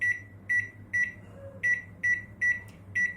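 A convection microwave oven gives a run of short, bright electronic beeps at a steady pace as its settings are keyed in and it starts, heard close over a low appliance hum.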